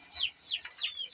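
Chickens clucking during a winter move to a bigger cage, a series of short, rising squawks and clucks repeating close by in quick succession.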